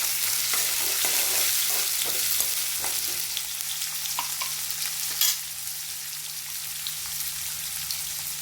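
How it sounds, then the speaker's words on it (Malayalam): Garlic and onion fry in a pan with a steady, bright sizzle, while a spoon stirs through them in soft intermittent scrapes; close and continuous, with no voices. "ഇനി നമുക്ക് വെളുത്തുള്ളി ചേർത്ത് കൊടുക്കാം. സവാള ചേർത്ത് കൊടുക്കാം. നന്നായി ഇളക്കാം."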